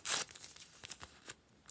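A small plastic packet holding a collectible sneaker figure is torn open with one sharp rip, followed by a few faint crinkles and rustles.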